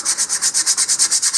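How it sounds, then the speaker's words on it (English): A model rocket part from a LOC Precision Graduator kit is sanded by hand, its close, steady rasp repeating in quick back-and-forth strokes, about a dozen in under two seconds, with no talking. "You just kind of rotate your wrist a little bit as you're sanding back and forth."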